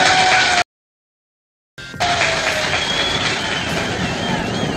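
A train rumbles and clatters along the rails with a high wheel squeal running through it, cut off by a second of silence before the rolling noise resumes steadily and close.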